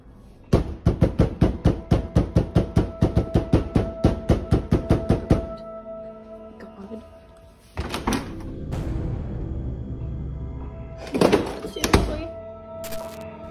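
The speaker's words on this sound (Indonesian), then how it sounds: "Ada suara ketukan pintu yang sumbernya itu kayak deket banget." Someone knocks on a door in a rapid run of about twenty loud, close raps. A few seconds of quiet follow, then several heavier thuds and bangs.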